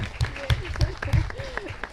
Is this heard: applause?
yes